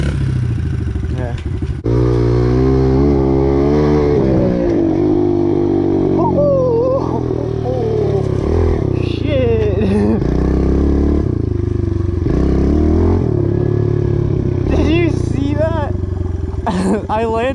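A pit bike engine revs hard through a jump, a loud buzzing drone that rises and falls in pitch close by, with people talking over it.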